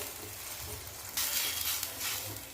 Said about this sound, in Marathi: पाण्याला छान उकळी आलेली आहे